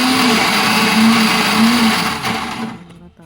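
An Indian mixie, a mixer grinder, whirs loudly and steadily while grinding ingredients for a breakfast dish, then winds down and stops near the end.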